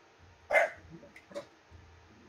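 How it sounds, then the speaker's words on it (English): A dog barks once sharply and nearby, then gives a second, softer bark with some faint yips and whimpers amid low background noise. "What are you barking at?"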